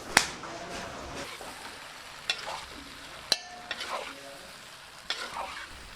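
Beef fry sizzling in a pan at a busy Kerala eatery, stirred with sharp metal scrapes and clinks that come every second or so over a steady frying hiss.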